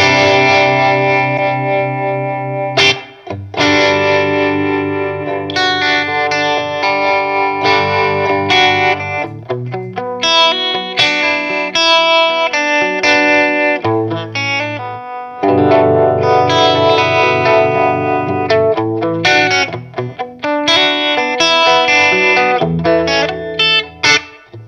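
Electric guitar through a Vox MV50 AC micro tube amp with pedal effects plays chords and riffs, thick with distortion, chorus and echo, loud and continuous with brief pauses between phrases.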